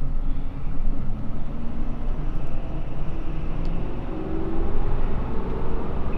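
A Ford 6.7 Powerstroke diesel truck drives along a road in sport mode, its steady broadband engine and road rumble continuous and fairly loud throughout, with no talk.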